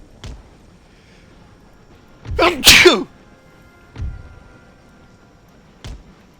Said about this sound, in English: I cut out my mic because I sneezed